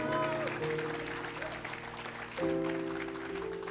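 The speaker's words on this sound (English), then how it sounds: "Let's give the Lord a round of applause." Church congregation at Jesus House Dallas applauding during a service, a steady wash of clapping running under sustained keyboard or organ chords that shift partway through.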